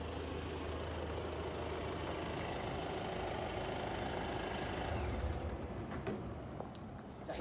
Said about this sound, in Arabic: اول حاجه شد لي الصويت ديال الموتور